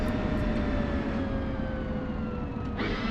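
F-16 jet engine in a flight simulator game throttling up, a steady loud roar with rising whining tones that climbs slowly, ending in a brief burst of hiss.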